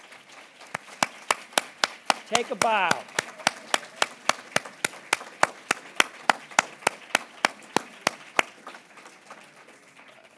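An audience claps in a steady, sparse rhythm of distinct individual claps at a talk honoring staff members, with a brief spoken line partway through.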